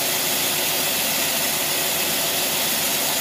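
Carbureted engine idling under 1,000 RPM, a loud continuous broadband whooshing roar with a steady, even tone and no speech.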